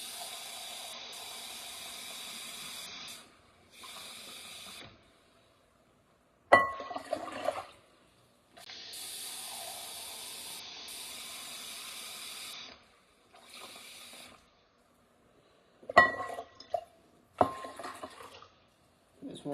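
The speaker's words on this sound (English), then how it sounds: "just keep adding more water to it" Water runs and splashes into a container in several bursts of steady pouring, broken by short pauses and a few sharp clinks, with no talking.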